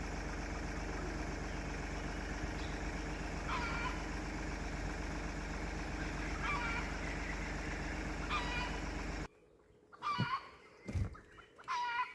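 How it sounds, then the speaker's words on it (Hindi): Wild jungle fowl giving agitated alarm calls in a forest reserve where a tiger is moving, heard as repeated clucking cries over a steady idling vehicle engine, which cuts out near the end, leaving the calls more exposed. "ये जंगली मुर्गी है और इसकी बड़ी एजिटेटेड कॉलिंग हो रही है।"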